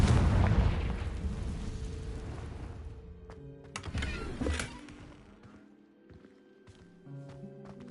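An explosive Confringo spell in the Hogwarts Legacy video game on PS4: a loud, rumbling blast at the start that decays, followed by a smaller burst and scattered lighter impacts and tonal game effects fading out.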